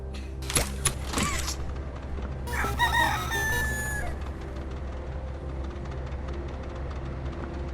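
A chicken character in the video game Poppy Playtime Chapter 4 gives a few sharp clucks, then a loud rooster crow, over a low mechanical droning ambience that continues after.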